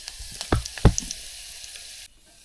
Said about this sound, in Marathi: तर आपण आता ही अंड्याच्या कालवणाला फोडणी देत आहोत